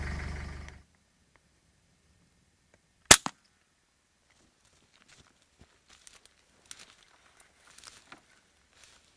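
A single sharp crack from a .22 rifle fired during an evening rabbit hunt, loud and brief against quiet outdoor surroundings, with faint rustling and small noises afterward.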